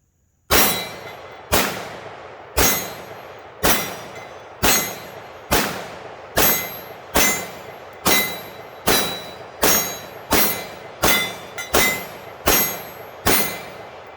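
A 9mm handgun fires steady, evenly spaced shots at steel targets, about fourteen loud cracks, each trailed by a brief metallic ring, and no voices.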